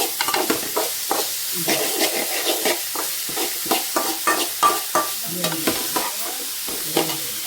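Chopped jackfruit vegetable frying over medium-low heat while a spatula scrapes and turns it in the pan, giving regular close stir strokes over a light steady sizzle.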